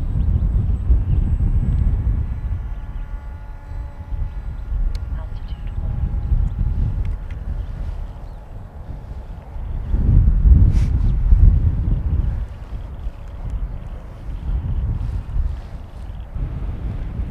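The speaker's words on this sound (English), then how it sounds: "Oh, lots of wind." Heavy wind buffets a small quadcopter drone flying outdoors on a Matek F411-WSE flight control board, a steady rumbling roar with louder gusts and faint motor whine, while a voice speaks briefly.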